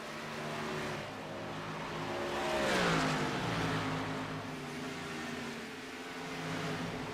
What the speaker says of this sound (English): you guys can hear a little bit more of the cars as they're screaming around this track here